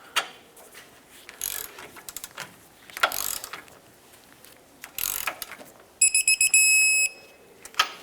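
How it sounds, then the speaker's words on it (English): A torque wrench with a 19mm socket tightens the strut nuts on a 1996–2002 Toyota 4Runner. Ratcheting comes in short bursts, followed by a steady electronic beeping tone near the end. "Let's tighten this up and torque them to 101 foot-pounds."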